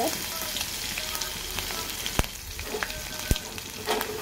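Crushed garlic and coriander sizzle steadily in hot oil in an Indian home kitchen, a continuous crackling hiss broken by a couple of sharp pops and light stirring clinks.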